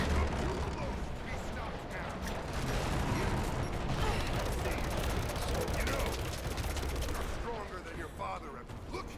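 Dense, continuous game combat in Rise of the Tomb Raider, with a grenade launcher firing amid steady booms, clanks and mechanical creaks. The sound stays loud throughout, with speech-like voices mixed in.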